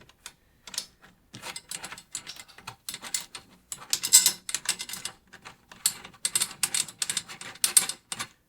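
A tension rod screw being placed and threaded onto a drum hoop while a drum is being set up for tuning, giving a string of close, light metallic clicks and ticks in an irregular rhythm with no talk.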